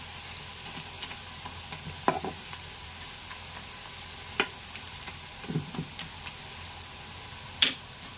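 A mixture of tamarind leaves fries in a pan while being stirred, giving a soft, steady sizzle broken by occasional scraping clicks of the spoon, with no talking.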